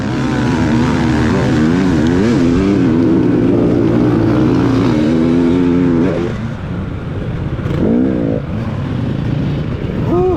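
Dirt bike engine revving hard while racing uphill on a rocky trail, loud and close throughout with rising and falling throttle surges, briefly dropping off around the middle before winding up again.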